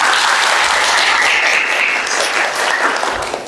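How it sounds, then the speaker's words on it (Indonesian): A classroom group bursts into sustained applause for a presenting team at a university teaching workshop, dense clapping filling the room and tapering off slightly at the end. "Tepuk tangan dulu untuk kelompok 3."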